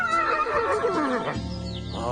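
A cartoon horse in Paris, dressed up in an Easter bonnet, gives a single loud, close neigh: a wavering whinny that falls in pitch, then a brief, softer tail at the end.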